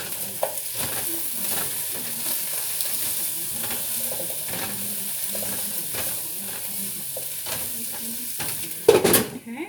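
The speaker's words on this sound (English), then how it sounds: "You can hear my vegetables popping. Popping and sizzling." Chopped vegetables sizzle and pop steadily in a hot pan while being stirred, with scattered utensil scrapes and a louder clatter near the end, no talking.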